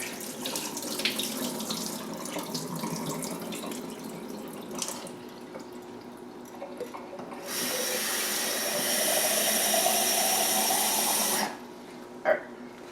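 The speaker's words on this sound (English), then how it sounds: "Pour off that water." Water pours off soaking grains into a kitchen sink, a bright steady splash running for about four seconds and stopping abruptly, preceded by quieter handling and rinsing sounds.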